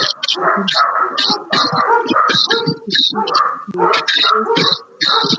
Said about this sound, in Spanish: Perro. Ajá, perro.